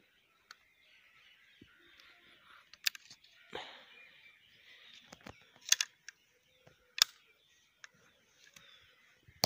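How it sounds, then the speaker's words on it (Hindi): A Mosin-Nagant M44 rifle has its magazine opened with a release button. Sparse, sharp metallic clicks and clacks sound close and separate over a faint background hiss. "यहाँ से इसका मैगजीन ओपन होता है इस बटन से"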